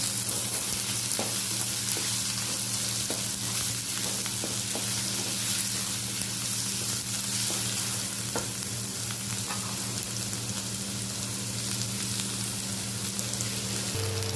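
Chopped onions with salt frying in a pan for a hilsa fish-head bhorta, a loud continuous sizzle with occasional stirring scrapes over a steady low hum, no speech.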